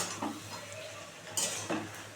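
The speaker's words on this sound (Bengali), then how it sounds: "এবার একটু নেড়ে দেবো।" A utensil scrapes and clinks against a pan while pui shak curry with fish roe is stirred, a few soft close scrapes over a faint sizzle.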